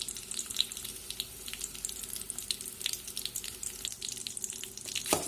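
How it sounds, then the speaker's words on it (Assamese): Green chillies sizzle in oil with crackling five-spice seeds for a chilli pickle, a fairly quiet but steady crackling fry with small pops and a brief stir near the end, no talking. "এতিয়া মই ইয়াতে জলকীয়া দি দিম।"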